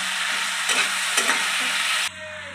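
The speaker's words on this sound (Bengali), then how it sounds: "একটু ভালো করে নেড়ে ফেলে দিলাম" Food frying in a pan while being stirred, a loud, close, even sizzle with a few scraping spatula strokes, dropping abruptly to a quieter hiss near the end, with no speech.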